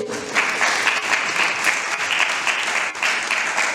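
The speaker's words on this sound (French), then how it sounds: "Est-ce qu'on peut applaudir s'il vous plaît?" Dense applause from an audience at a Lasallian student parliament gathering fills the room, a continuous loud patter of many hands with no break.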